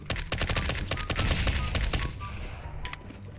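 MP5 gunfire in CSGO gameplay: rapid automatic bursts rattle loudly and close for most of the moment, then stop, with one last isolated shot near the end.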